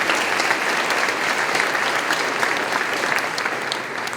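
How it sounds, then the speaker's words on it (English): Audience applause at a foundation breakfast, steady dense clapping from a room full of people lasting several seconds and tapering slightly at the end. "Let's give each board member a round of applause as I announce their name."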